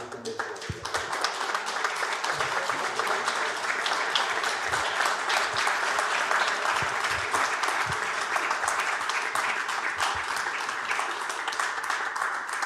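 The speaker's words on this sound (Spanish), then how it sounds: "Yo les pido a todo el mundo un aplauso para ellos" Sustained applause from a festival audience at a film screening colloquium, steady dense clapping throughout with occasional sharper individual claps, a voice faintly mixed in beneath.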